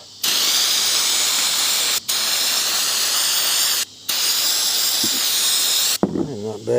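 Steady loud hiss of a pressure sprayer blasting water onto jukebox parts from a 1961 Seeburg AY100U, in three long bursts separated by brief pauses, followed by a short clatter at the end.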